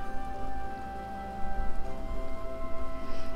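Rain in the Tales of Vesperia video game, a steady soft hiss of falling water that holds at an even level for several seconds beneath constant tonal game music, with no talking.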